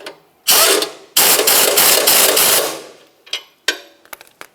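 A ratchet wrench tightens a mounting bolt on the rear bumper of a 1994-2002 Dodge Ram 2500 while a 19mm holds the nut, making loud, close bursts of fast clicking followed by a few short separate clicks and knocks.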